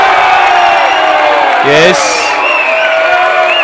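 An indoor basketball crowd at a semi-final game roars and cheers after a play, a loud, dense wall of noise with shouts and whoops, while a commentator talks over it.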